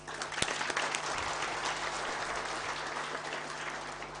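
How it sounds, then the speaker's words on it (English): Audience applause at an NGO week event in 2023, a dense, steady wash of many hands clapping continuously for several seconds, with one sharper clap standing out near the start. "Can we do a louder clap than that?"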